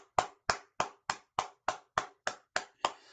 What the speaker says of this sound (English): Oh, you bet I'm applauding.